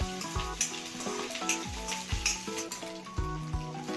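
Green chillies and curry leaves frying in oil for egg fried rice, a steady close sizzle with occasional spatula scrapes against the pan, while music plays over it throughout and no one speaks.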